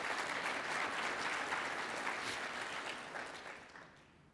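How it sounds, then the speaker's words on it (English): Audience applause fills a hall during a city's state of the city address in Novi, a steady dense clatter of many hands that gradually thins and fades out near the end. "Round of applause, absolutely."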